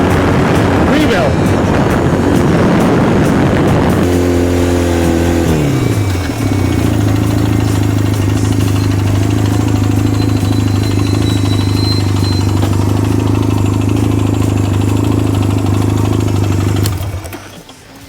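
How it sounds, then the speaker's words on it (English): A motorcycle engine roars close by, the pitch dropping as it settles from a rev into a steady, loud running note that holds before fading at the end, with a voice speaking over the start. "That's the power, the fun of a motorcycle."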